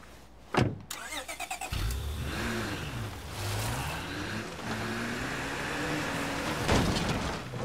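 A car engine in the video game State of Decay 2 starts with a sharp clunk, then rumbles and revs steadily at a moderate level, with no voices.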